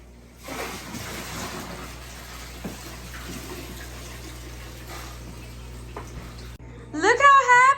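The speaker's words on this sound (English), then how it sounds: "We are adding another bucket of water." Water from a bucket pours into a pet tank in a home, a steady broad splashing rush lasting several seconds, then a voice speaks loudly near the end.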